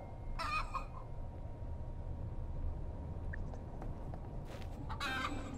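A few short bursts of chicken clucking in the VR game Wayward Sky, near and fairly clear, over a steady low rumble of background noise.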